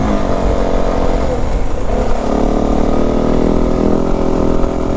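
A 2025 Yamaha WR450F dirt bike engine with restricted exhaust and airbox drones steadily at idle-to-mid revs, buzzy and somewhat muffled, with a raspy, whiny exhaust note close by and no voices.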